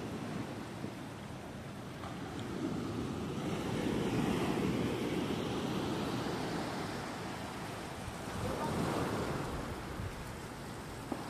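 Ocean waves surge and wash in a continuous broad roar, swelling and easing over several seconds, with wind buffeting the microphone at a seaside spot.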